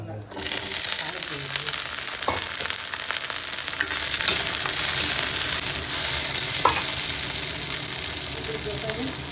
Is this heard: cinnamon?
yes